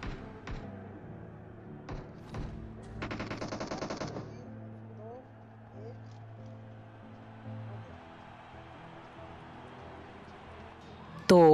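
In the PUBG Mobile video game, a few sharp single gunshots crack out, then a rapid automatic burst, while a voice talks over the game sounds.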